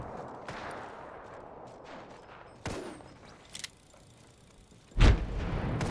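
Shots from a gun in Apex Legends, a few sharp distant cracks spaced apart over a low battlefield rumble, the loudest burst near the end.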